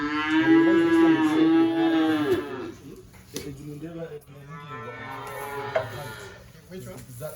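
A cow on a Ugandan dairy farm lets out a long, loud moo up close, followed by quieter lowing and softer calls, with people talking in the background.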